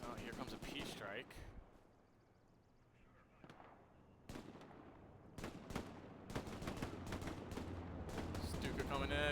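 Precision air strike in the WWII shooter game Hell Let Loose, a series of sharp explosive impacts and gunfire bursts, some clustered, others spaced out, with low rumble between and talk over parts of it.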